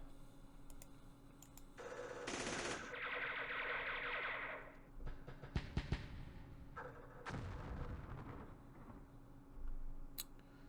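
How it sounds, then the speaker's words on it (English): Mortar and machine gun fire in the war game Campaign Series Middle East at the Battle of Jerusalem: loud bursts of noisy, distorted blasts with echoing tails and sharp cracks, separated by quieter gaps. "So mortars, probably machine gun or something there"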